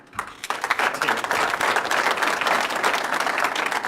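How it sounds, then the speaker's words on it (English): An audience at a community health awards ceremony breaks into steady, moderately loud applause that builds quickly and continues without talking. "the applause would have been much louder"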